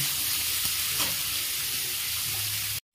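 Spice ingredients fry in a pan with a steady, close hiss and crackle, broken by a few soft stirring scrapes, before the sound cuts off abruptly near the end.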